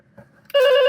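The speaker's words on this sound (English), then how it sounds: "And it does do the rotary phone thing," A Fun World Scream 4 Ghostface toy telephone from 2011 gives a loud, steady electronic rotary-style ring that starts abruptly after a faint click and handling noise.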